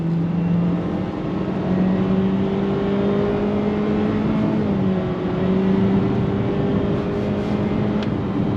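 Cabin of a 2023 Honda HR-V under throttle, a steady engine drone rising gently in pitch over loud, constant road and tire noise.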